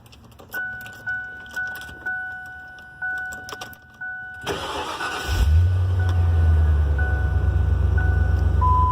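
A 2000 Ford Explorer Limited starts after a few seconds of keys jangling and clicks, then settles into a steady, loud idle with the blower motor running.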